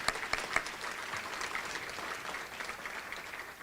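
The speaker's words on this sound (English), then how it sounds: "Round of applause." An awards ceremony crowd applauds steadily, with a few sharp claps near the start before the clapping settles into an even patter.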